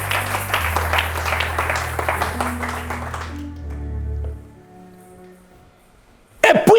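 A church congregation applauds in a dense burst of clapping for a few seconds over a sustained organ or keyboard chord, then fades to quiet before a voice returns.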